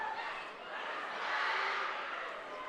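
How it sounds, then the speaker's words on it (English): A crowd cheers at girls' wrestling consolation matches during a regional tournament final round, a broad steady roar from a distance that swells briefly in the middle. "You definitely hear some excitement going over there from the consolation matches. A lot of cheering"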